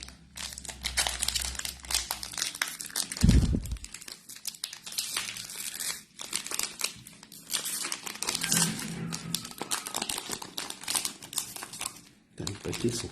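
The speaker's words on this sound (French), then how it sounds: "Les paquets sont super durs à ouvrir." Crinkly foil wrappers of Dragon Ball Super trading card packs being crumpled and torn open, a busy, close rustling that runs almost throughout with brief pauses and a thump near the start.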